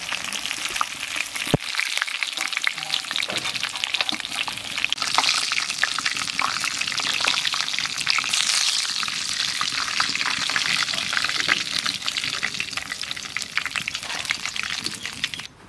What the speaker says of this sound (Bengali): আর দু পিস আছে বন্ধুরা, এটাও ভেজে নিই।